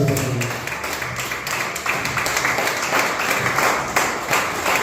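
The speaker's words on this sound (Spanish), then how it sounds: "Den un aplauso al Señor." Church congregation applauding during a service, a full, steady wash of clapping from many people sustained for several seconds, with little talk over it.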